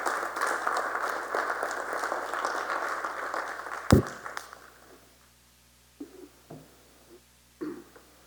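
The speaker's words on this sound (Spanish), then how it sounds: "Fuerte aplauso también para él" An audience applauding a speaker at a book presentation, with dense clapping for about four seconds before it thins out. Scattered claps and small noises follow in a quieter room.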